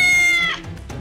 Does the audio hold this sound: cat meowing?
yes